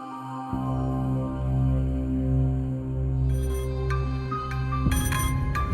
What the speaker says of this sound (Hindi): नायला का फोन